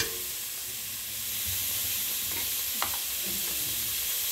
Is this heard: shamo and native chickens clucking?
no